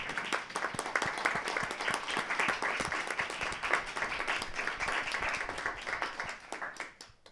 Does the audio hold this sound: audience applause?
yes